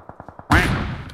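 Gunfire in the battle royale game PUBG Mobile: four light, evenly spaced shots, then a loud close burst of fire that rings out and decays over the final half second, with no talking.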